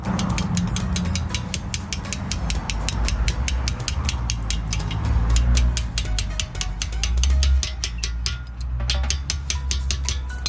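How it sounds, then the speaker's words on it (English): Rapid, regular metallic hammer strikes drive out a brake caliper retention pin on a Lexus IS200T, a long close run of sharp evenly spaced taps over a low mechanical hum, with no talking. "we're going to remove the retention pin with sticking something in here and then hitting it out"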